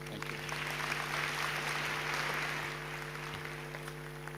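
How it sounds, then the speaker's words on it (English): Applause from a conference audience for a panel at an investment conference in South Africa, a steady dense wash of clapping that swells and then eases slightly over several seconds, with faint hum beneath. "let's give our panel some applause"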